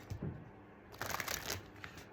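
A short, quiet riffle of oracle cards being shuffled, two soft bursts of flicking paper close by, with no talking.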